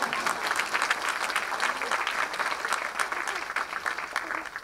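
Audience applause at a Tamil public talk, steady dense clapping from a large crowd with faint murmur beneath, sustained throughout without letting up.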